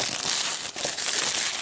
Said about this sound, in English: Peel the plastic here.